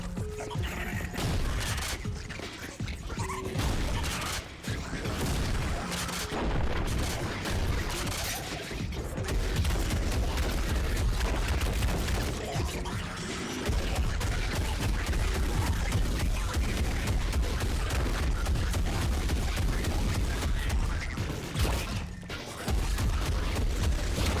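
Gunfire in the video game Clawed, a dense, continuous barrage of loud shots and crashing impacts running nearly unbroken through the stretch, with heavy low rumble beneath and only a few brief pauses.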